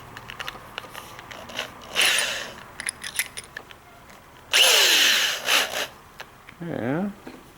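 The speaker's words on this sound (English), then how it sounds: "I'm gonna drill it." Short bursts of whirring power-tool noise, a drill revving up and down with pauses between, amid scraping and handling clatter.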